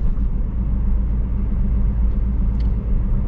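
A Nissan Micra 1.4 on the road, its engine and tire noise forming a loud, constant low rumble heard from inside the car, steady without pauses.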